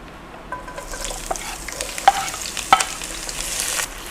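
Onion sizzles in a little oil in a large frying pan, a steady close crackle and hiss with occasional sharper pops and utensil clinks for a simple ragout.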